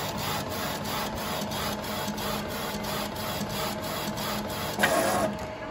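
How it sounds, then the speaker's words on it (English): A printer runs a print job on sublimation paper for a tumbler, giving a steady, close mechanical whir with a regular beat of rhythmic pulses and a brief louder surge near the end. "click that print button and it's going to finally send to"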